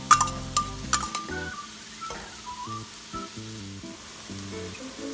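Onion sizzles in olive oil in a pan, a soft steady frying hiss with a few clinks and stirring knocks at the start, heard alongside some background music tones.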